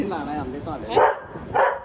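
A small pet dog gives two sharp barks at close range in a home, breaking through ongoing conversation.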